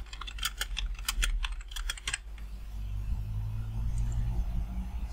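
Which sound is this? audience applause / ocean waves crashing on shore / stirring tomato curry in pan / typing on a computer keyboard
typing on a computer keyboard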